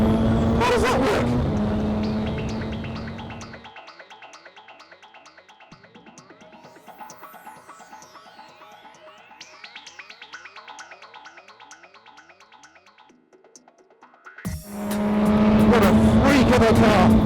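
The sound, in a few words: DeltaWing turbo race car driving on track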